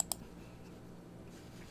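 A computer mouse gives a single sharp click near the start, followed by quiet room tone with no talking.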